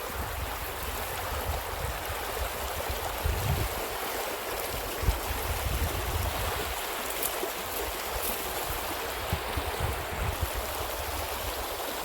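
Water rushes steadily in a continuous broadband roar, a fast mountain stream flowing down a slope close by at Wiyala Duki, with no voices.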